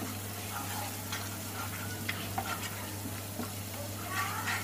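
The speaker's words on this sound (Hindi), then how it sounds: "भून लिया हमने इसको, अदरक लहसुन का कच्चापन चला गया।" Ginger garlic paste fries in a pan over a medium flame, giving a steady low sizzle with occasional soft stirring scrapes throughout, no voices present.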